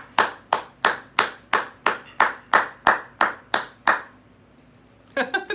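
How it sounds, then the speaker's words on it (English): A round of applause from a single pair of hands, about eleven sharp, evenly spaced claps close to the microphone, then a pause and a brief burst of other sound at the end. "Round of applause."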